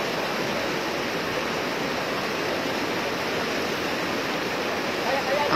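Brown floodwater rushes past steadily during flooding from Typhoon Paeng in Baguer, a dense, continuous roar of churning water at constant loudness that swells slightly at the end.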